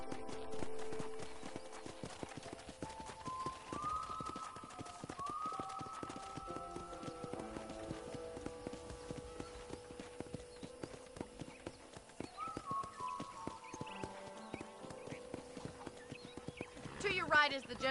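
Rhythmic clip-clop of horse hooves trotting steadily, with a horse whinnying and gentle background music throughout, in the video game Red Dead Redemption.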